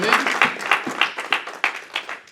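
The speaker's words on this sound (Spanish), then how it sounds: "Un aplauso para el Señor." Congregation clapping at a Sunday morning church service: quick, evenly spaced rhythmic claps, about eight beats in a little over two seconds, close and fairly loud.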